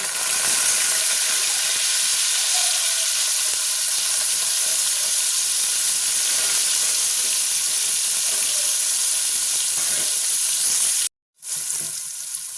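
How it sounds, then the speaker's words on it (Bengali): Steady, loud sizzling of bitter gourd frying in hot white oil, a continuous crackling hiss with a brief drop near the end, no voices. "নিয়ে এবার আমি এই সাদা তেলের উপর উচ্ছেগুলো দিয়ে দিচ্ছি।"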